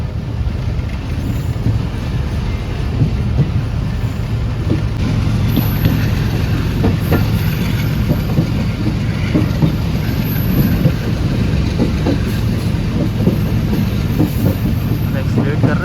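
The Shalimar Express passenger train running on the main line between Karachi and Nawab Shah, recorded from on board: a loud continuous rumble of wheels and rushing wind with faint rhythmic rail clatter, steady and close.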